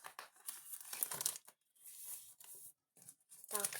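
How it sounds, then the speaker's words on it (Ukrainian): Stickers pulled from a pack, with crinkly tearing and rustling of paper or foil in short bursts and brief pauses, close and fairly quiet. "Тянемо дві наклейки, так як завжди."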